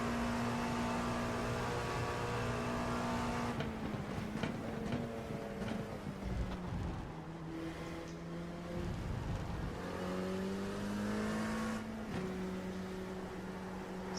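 Race car from the iRacing video game driving steadily, with a sustained engine drone that rises and falls through gear changes and shifts in pitch, a few whirring passes, and no talking.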